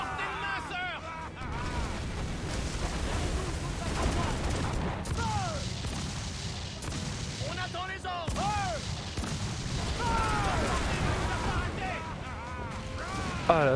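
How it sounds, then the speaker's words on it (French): Gunfire and cannon blasts in the video game Assassin's Creed Black Flag, with dense overlapping shots and booms under someone speaking and chaotic whistling effects throughout. "ça tire dans tous les côtés ça, hein, ça rien ne va plus"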